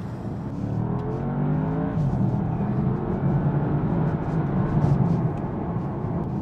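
Porsche Panamera Turbo S E-Hybrid Sport Turismo under acceleration, heard from inside as a steady engine drone whose pitch rises as it pulls, with road and wind noise underneath.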